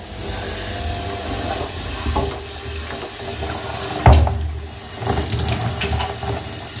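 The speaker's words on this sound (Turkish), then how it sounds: "hala kirli su gelmeye devam ediyor" Dirty water gushes and splashes out of a household radiator being flushed, a continuous close hiss and rush with a sudden thump partway through and sputtering surges afterward.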